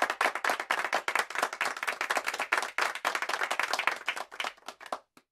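Hands clapping in sustained applause, dense rapid claps from many people, fairly close and steady before tapering off and stopping near the end.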